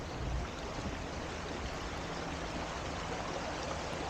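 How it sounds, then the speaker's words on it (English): A small creek, a tributary of Salmon Creek, flows with a steady, dense babbling rush, constant and moderately loud with no voices. "There's that little creek."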